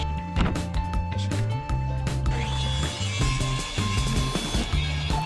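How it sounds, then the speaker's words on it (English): Waterproof plywood pads are cut to size with a power saw, a close, steady mechanical drone broken by irregular knocks and scraping changes as the blade works through the wood, with no voices. "From waterproof plywood I cut pads to size."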